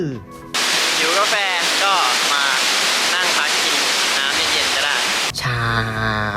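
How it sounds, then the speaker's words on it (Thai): Loud, constant roar of rushing water from a powerful waterfall in Da Lat, Vietnam, filling the whole clip with a brief voice at the start and end. "น้ำตกเนี่ยไหลแรงมากอ่ะเสียงอย่างดัง"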